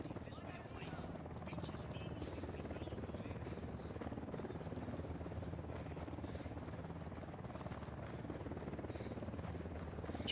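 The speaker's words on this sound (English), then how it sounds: "Chopper incoming." A helicopter approaches in the video game Ghost Recon Wildlands, a continuous rotor thudding and engine whine that persists at an even level from start to finish.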